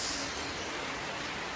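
Heavy rain pours down steadily in a dense, continuous hiss, loud and close, with no other sounds breaking through over the short stretch.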